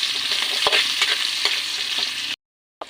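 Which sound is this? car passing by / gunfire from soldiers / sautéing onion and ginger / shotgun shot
sautéing onion and ginger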